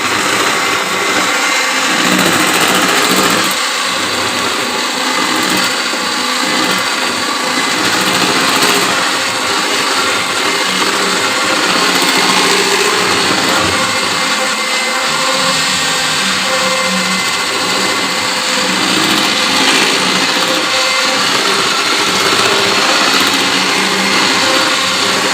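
An electric beater whips pancake batter in a bowl, a loud continuous high-pitched motor whir with steady rattling of the beaters against the batter, close and unbroken throughout.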